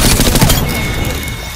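Rapid automatic gunfire from an Apex Legends firefight, a dense burst of loud shots for about half a second that then gives way to a quieter lingering tail.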